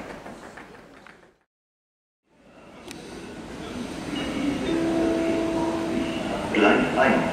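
A train rumbles into Kassel-Wilhelmshöhe station, growing louder with rolling wheels and faint brake squeals, after a brief cut of silence.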